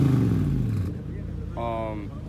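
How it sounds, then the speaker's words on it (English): A BMW E30 engine revs up from idle, a rising harmonic whine climbing and falling once, up close, with voices talking over the first part. "Oh, give it a little rev."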